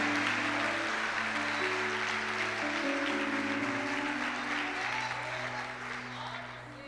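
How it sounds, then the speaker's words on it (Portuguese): Church congregation clapping to glorify Jesus during a communion service, a broad steady wash of applause mixed with sustained musical tones from the keyboard, slowly fading toward the end. "Alguém pode aplaudir e glorificar o nome de Jesus aí?"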